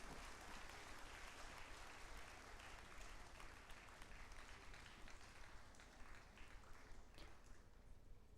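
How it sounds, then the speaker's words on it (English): Audience applause at a centenary celebration in India, a continuous even wash of many hands clapping, faint and distant, with a steady texture and no speech over it. "may we give them a huge round of applause."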